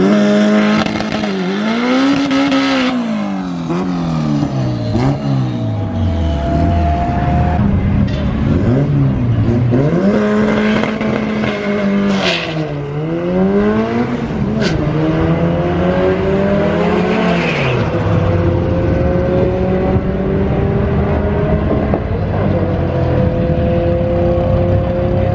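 Car making a drag strip pass at an import tuner event, engine roaring loud and close as it revs and climbs through gear shifts, then fading slightly while still droning steadily.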